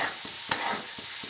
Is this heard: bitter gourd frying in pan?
yes